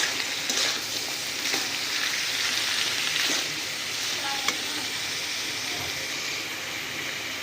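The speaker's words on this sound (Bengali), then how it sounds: "মশলাটাকে আমরা খুব ভালোভাবে ভাজা করে নেব" A paste of ginger, garlic, dried chili and cumin fries in hot oil, crackling steadily up close while a spoon stirs and scrapes it at intervals, with one sharp clink.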